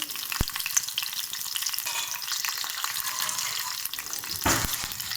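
Mint leaves and green chillies fry in a pan for chutney, giving a steady soft sizzle throughout with light stirring scrapes and one sharp clink near the start.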